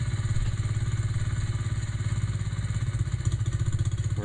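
A 1972 Sears Custom 10XL lawn tractor engine runs at a steady idle, a loud, close, continuous low chugging with fine mechanical clatter and a quick pulsing beat that holds even throughout.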